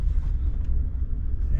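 A car idles and rumbles low and steady from inside the cabin while backing into a driveway, a constant close engine drone with no clear revving, under a voice.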